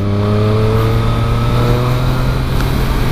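Throaty exhaust note from a motorcycle engine (Triumph Street Triple RS, Yamaha MT-09 SP or MV Agusta Brutale 800 RR) on a wet, rough road, a steady loud harmonic drone held close by throughout.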